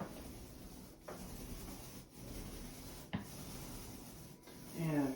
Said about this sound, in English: this is a Benjamin Moore Aura roller, and it's a 1/2 inch, and it's tapered off in the corners